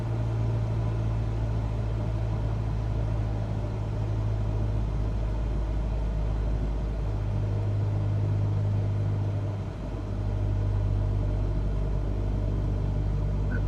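Aircraft engine in Microsoft Flight Simulator 2020 with the throttle cut on approach, a steady low drone and rumble holding evenly throughout with a slight dip near the end, no voices.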